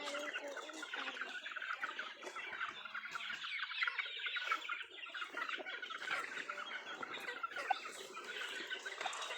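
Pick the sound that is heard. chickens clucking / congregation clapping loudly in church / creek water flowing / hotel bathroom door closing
chickens clucking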